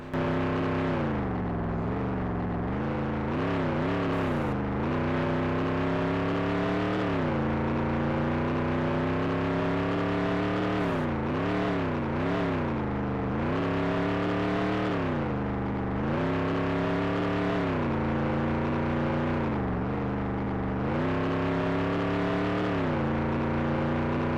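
A race car engine in the Nascar 98 video game drones and revs through a qualifying lap at Sears Point, its pitch steadily rising and falling through gear changes and corners, loud and continuous without any talk.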